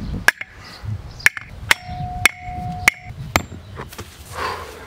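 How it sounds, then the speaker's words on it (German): A hammer drives a metal tent peg into the ground for a garden tomato shelter, giving about six hard, ringing strikes at uneven intervals over faint outdoor background noise. "Ich will jetzt hier diesen, meinen Hering in die Erde kloppen."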